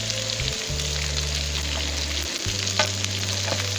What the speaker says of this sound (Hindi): ये 2 मिनट और फ्राई करके इसको निकाल दूँगी।